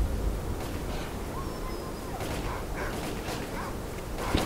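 Dogs in the video game S.T.A.L.K.E.R. Clear Sky yelp and bark amid a dense, noisy backdrop of gunfire and ambient game sound, the animal cries scattered and partly masked throughout.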